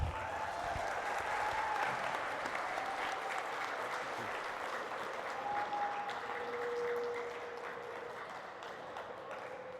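Students at a high school outreach event applaud the Attorney General of Guam, a steady, full round of clapping from a large crowd in a hall, with a few faint tones and no talk.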